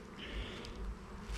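A steady, faint drone of many honeybees buzzing around where a relocated colony used to be, a continuous hum with no voices.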